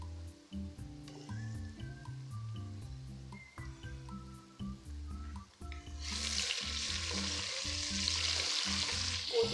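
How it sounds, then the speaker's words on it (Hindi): Ginger garlic paste sizzles and fries in hot oil with occasional stirring while cooking dal mash, the sizzling swelling louder and hissier toward the end; no talking. "तो भी हम अच्छे से फ्राई करेंगे।"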